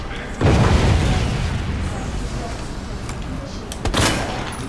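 A loud explosion in the Resident Evil 2 Remake video game booms at close range, followed by a sustained rumbling roar and a second burst near the end.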